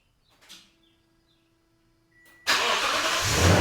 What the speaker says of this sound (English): 3 clicks on the lock